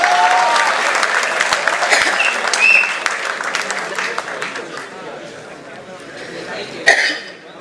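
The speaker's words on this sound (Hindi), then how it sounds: "एक बार 2000 तालियां।" An audience at a Hindi kavi sammelan poetry recital applauds, with loud crowd clapping that gradually fades, a cough cutting through and some voices underneath.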